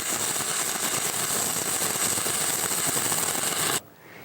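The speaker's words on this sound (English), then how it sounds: "Try to maintain a short arc gap and constant travel speed." Stick electrode arc welding in the flat position gives a close, steady crackling hiss with a sharp sizzle that runs continuously, then cuts off abruptly near the end.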